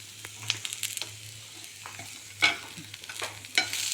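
Beaten rice soaked in buttermilk fries in a pan with a low, steady sizzle, broken by repeated scraping stirs and a few louder spoon scrapes near the end.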